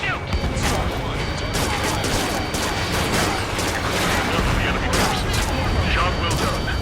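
Rapid cannon and gunfire bursts from the Ace Combat 7 video game, with loud repeated shots, crashes and explosions packed densely over a constant battle rumble, while game voices shout over the gunfire.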